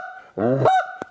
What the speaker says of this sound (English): I close it down, I get a deeper tone in the goose call.